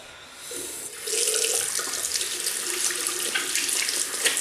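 Tap water runs into a sink while a double-edge safety razor is rinsed, starting softly then rising to a steady, close hiss of flowing water with small splashy fluctuations, no voices.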